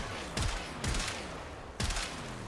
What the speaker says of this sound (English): zoom in, shoot enemies ahead to get the dead head stacks